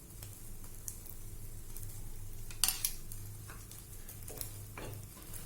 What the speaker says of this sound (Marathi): चमच्याने यावरती हे जे बॅटर आहे ते घालायचंय।